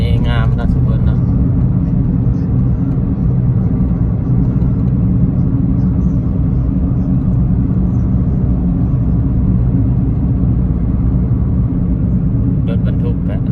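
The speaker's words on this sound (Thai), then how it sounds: "รถบรรทุกก็หลายเนาะทุกคน" Trucks and other vehicles drive across the Mekong bridge toward Nakhon Phanom, making a loud, steady engine rumble and road roar that continues close by for the whole stretch.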